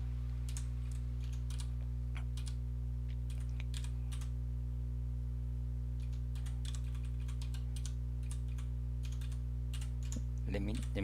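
Code typed on a computer keyboard for an Emacs Lisp edit, with irregular bursts of close key clicks over a steady electrical hum and no talking.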